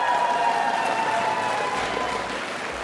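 Loud applause and cheering from an arena crowd at a live LEC esports match fill the clip, a dense sustained roar of clapping that slowly eases off toward the end.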